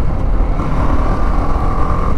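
BMW G310 GS motorcycle engine running at high speed in fourth gear around 120 km/h, a steady loud drone with a sustained mid tone, close and continuous with wind rush and no talk.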